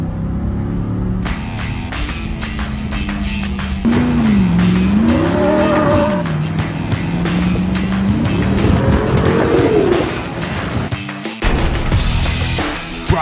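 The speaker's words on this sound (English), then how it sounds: "You cannot make a V6 sound like a big V8. It's just not possible. So you just have to put in a big V8." Jeep 4x4 with a 392 V8 engine driving, a loud, deep engine rumble that rises and falls as it revs, with gear shifts and some clatter, close and without talk.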